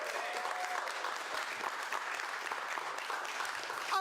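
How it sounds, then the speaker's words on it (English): Audience applause at a general meeting, a steady wash of many hands clapping at moderate volume throughout, with no speech over it. "Can we all give a round of applause"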